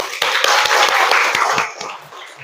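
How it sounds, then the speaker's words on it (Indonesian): Group of students clapping hands together in a classroom, a dense burst of sharp claps that fades out near the end, close and fairly loud. "Tepuk tangan."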